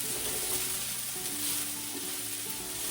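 Red onion frying in olive oil in a pan over medium heat, a steady dense sizzle that carries on close and even with no voices.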